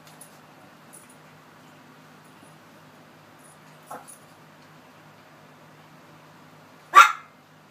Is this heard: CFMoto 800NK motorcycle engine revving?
no